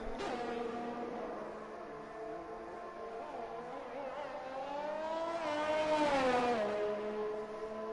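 Aston Martin race car engine in a Formula racing video game at Abu Dhabi, a continuous droning whine that holds steady, then climbs in pitch as it revs up and drops back, moderately loud with no talking.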